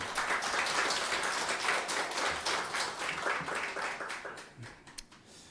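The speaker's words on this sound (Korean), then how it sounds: "우리 하나님께 감사와 영광의 박수 올려드리겠습니다." Church congregation clapping during a Sunday worship service, a fairly soft, sustained patter of many hands that tapers and thins out near the end, heard from some distance.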